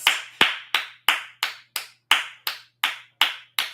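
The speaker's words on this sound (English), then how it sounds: "A round of applause." A single pair of hands claps about ten times at a steady, even pace, each crisp clap close and distinct against a quiet background.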